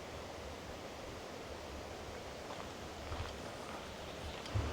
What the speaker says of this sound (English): Wow, is that a massive waterfall up there?